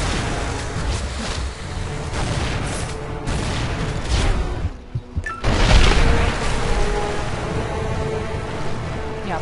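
Shotgun blasts go off in the video game Tomb Raider Anniversary, heavy booms set against loud rolling water and wave ambience, with a brief quiet gap before a strong burst.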